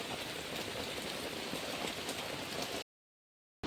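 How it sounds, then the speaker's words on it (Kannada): Heavy rain pours down steadily in a dense, close hiss of drops on surfaces, then cuts to silence near the end. "ಇಷ್ಟು ಜಗ್ಗಿ ಮಳೆ ಹೊಂಟದ್ರಿ ಇಲ್ಲಿ ನೋಡ್ರಿ ಈಗ ನೀರೆಲ್ಲ ಹ್ಯಾಂಗ್ ಸೋರ್ಲಾಗತ್ತದ್ರಿ"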